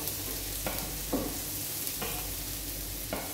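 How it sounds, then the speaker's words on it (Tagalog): Onion and garlic sautéing in a pan, a steady sizzle with a few scrapes of stirring spaced about a second apart, close and alone with no voices. "Nagisa ko lang yung sibuyas at bawang."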